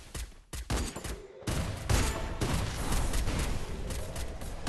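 Rapid gunfire from the Free Fire battle game played in a competitive scrim: bursts of sharp shots, a short pause, then sustained automatic fire that stays loud and dense to the end.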